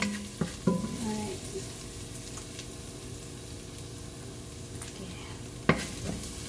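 Onions sautéing in a pan at home give a soft, steady low sizzle with occasional scraping stirs and clinks of a utensil against the pan, moderately close.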